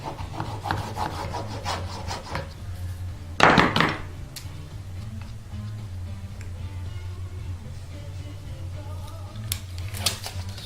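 A routed custom electric guitar body is burnished by hand, with repeated close rubbing strokes on wood and one brief louder scrape or thunk partway through, then quieter rubbing over a low background hum.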